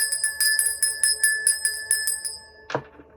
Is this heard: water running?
no